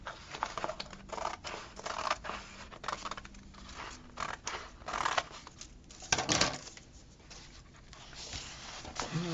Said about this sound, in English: Cut this with the scissors.